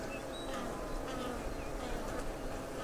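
Honey bees hum steadily at a hive entrance early in the morning, guards and fanning workers creating a continuous close buzz with occasional louder passes of individual bees, no talking.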